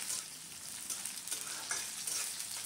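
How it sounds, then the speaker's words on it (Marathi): Onion and potato fry in a pan for batata poha, giving a steady, close, continuous sizzle with faint stirring scrapes throughout, no voices. "कांदा आपल्याला छान लालसर रंग होईपर्यंत परतून घ्यायचा आहे"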